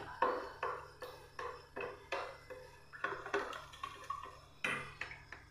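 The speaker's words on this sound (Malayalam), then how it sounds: "നല്ലപോലെ നമുക്കൊന്ന് മിക്സ് ചെയ്ത് എടുക്കാം" A spoon mixes a carrot and turmeric homemade soap mixture in a bowl, producing a rhythmic series of close clinks and scrapes, about two each second, with no talking.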